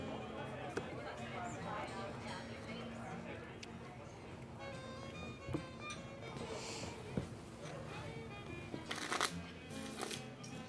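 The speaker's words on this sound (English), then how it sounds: "You can shuffle those cards all day long, but you know I'm gonna win." Playing cards being shuffled repeatedly at a card table during a game of 21 in an Old West saloon, a steady riffling patter under quiet background chatter with a few sharper card snaps near the end.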